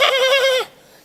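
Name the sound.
voice imitating a lamb bleating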